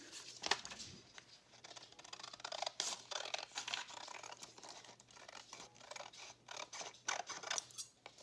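Scissors snip through paper and vellum while a junk journal pocket is crafted from postcards, with quiet close-up clicks, rustles and crinkles in an irregular rhythm at low volume and no talking.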